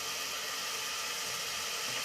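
A spoonful of garlic fries in a hot pan during murgh cholay cooking, giving a steady, even sizzling hiss close by.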